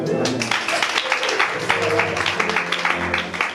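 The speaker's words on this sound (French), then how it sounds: "Acclamons le Seigneur" A church congregation at a revival conference claps and cheers in praise, a dense continuous wash of hands and voices sustained throughout at fairly close range.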